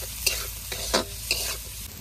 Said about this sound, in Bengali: একটু লবণ দিয়ে দেবো, তাহলে পেঁয়াজগুলো তাড়াতাড়ি ভাজা হবে।